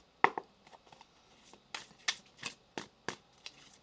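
Tarot cards being shuffled by hand, a quiet series of about ten soft riffling and slapping bursts at irregular spacing, close and alone.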